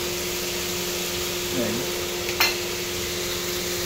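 Butter melting in a hot pan for cooking mushrooms makes a steady, even sizzle and hiss close by, with a brief murmur and a single sharp clink partway through.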